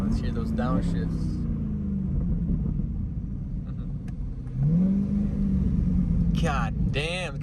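A C8 Corvette Stingray 6.2L V8 with MRT exhaust gives a deep, close rumble, with sharp rev sweeps at the start and end and a few faint crackling pops between.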